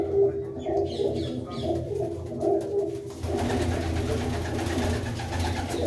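Pigeons coo in a loft kept by Bittu Baba of Dhamot village near Ludhiana, soft repeated rolling calls at first that give way to a busier, fuller murmur of birds.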